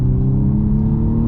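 A BMW M235i Gran Coupe accelerating, its engine and exhaust giving a steady, loud droning rumble with a low hum throughout.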